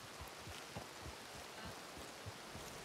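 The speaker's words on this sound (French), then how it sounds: "Quelle surprise, il pleut." Steady rain in Red Dead Redemption 2, a faint even hiss of falling drops with soft low thuds scattered through it, no voices.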